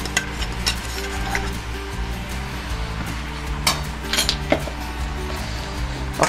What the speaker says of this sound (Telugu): ఒక్కసారి అంతా మంచిగా కలిసేటట్టు కలుపుకుందాం.